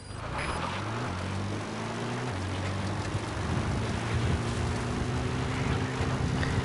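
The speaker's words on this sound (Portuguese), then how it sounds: "Chamar o helicóptero." A helicopter arrives in the video game Metal Gear Solid V: The Phantom Pain, its rotor and engine droning steadily and growing slightly louder and rougher, with no voices over it.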